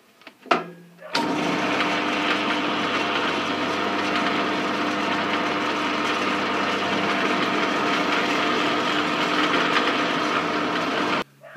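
Power saw cutting wood in a woodworking shop: a steady, loud, continuous whine and buzz of the blade through the wood for about ten seconds, starting abruptly after a short click and stopping cleanly.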